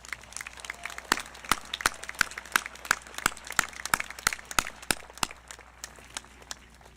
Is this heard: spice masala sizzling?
no